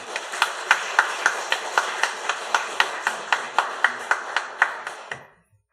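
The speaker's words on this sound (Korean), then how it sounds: "자, 우리 박수로 한번 환영하겠습니다." A church congregation clapping to welcome a preacher, beating in unison at a steady, even rhythm for about sixteen sharp claps before stopping abruptly.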